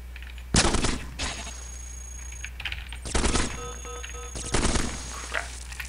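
Gatling lasers firing in the game Cogmind, three loud rapid bursts of crackling shots, each lasting about half a second, with quieter electronic beeps between them.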